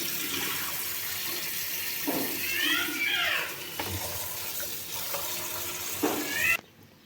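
Tap water runs steadily into a kitchen sink while fresh okra is washed, a continuous close splashing wash with brief clattering of handling partway through.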